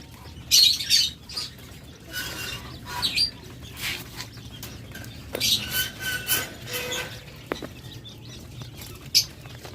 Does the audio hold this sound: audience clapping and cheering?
no